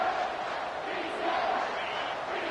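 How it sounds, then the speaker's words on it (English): Football stadium crowd roaring on a third down, a dense continuous wall of cheering and shouting, steady and loud throughout. "Third down, and this crowd is tearing the lid off this place."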